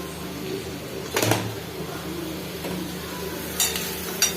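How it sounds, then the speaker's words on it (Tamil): Sponge-soaked soya chunks frying in a pan, a low steady sizzle with stirring scrapes and a couple of sharper clanks of a spoon against the pan, no talk. "இப்போ நல்லா இது வதங்கிட்டே இருக்கு."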